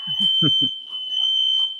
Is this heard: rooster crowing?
no